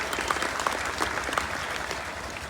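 Steady applause from an audience at a minority and Dalit awareness gathering, welcoming a retired district judge being honoured, moderately distant with a few sharper claps standing out in the crowd.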